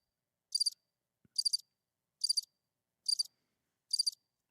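A cricket chirps in five evenly spaced trilled bursts, crisp and isolated against total silence, like a sound effect.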